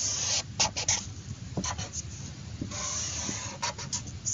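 A pen scratches and squeaks across a surface while sketching x and y axes, with short strokes close by over a faint hiss and some longer continuous lines.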